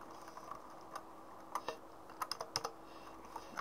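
Quiet typing on a computer keyboard while entering a TeamSpeak 3 server address, a sparse run of soft close key clicks with a few sharper taps, alone with no talk.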